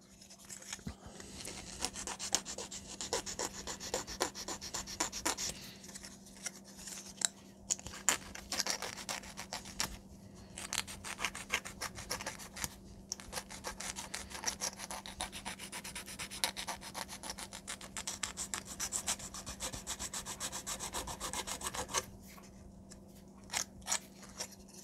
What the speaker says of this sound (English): And just sand it into a semicircle a little bit.